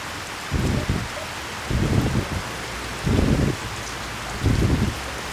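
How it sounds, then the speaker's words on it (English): Heavy rain pours down outdoors onto concrete as a steady broadband wash, interrupted by four loud low rumbling gusts at regular intervals. "Oh my god, it's really raining."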